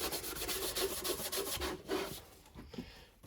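A cloth rubs wax into sealed wood for a satin finish, making steady, rhythmic back-and-forth scrubbing strokes, fairly quiet and close, fading into softer brief scuffs near the end.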